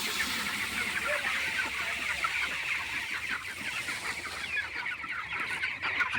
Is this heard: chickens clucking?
yes